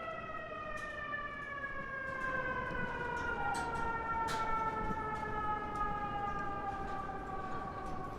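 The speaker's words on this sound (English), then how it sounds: "those sirens remind you that you're still in New York City" Emergency sirens in New York City wail in long rising and falling tones, heard from the elevated High Line park over a steady bed of traffic noise, fairly distant but clear throughout.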